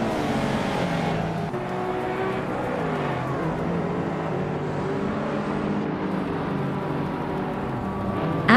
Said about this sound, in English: driving a Nissan Skyline GT-R 33, a car known for its legendary all-wheel drive and twin-turbocharged engine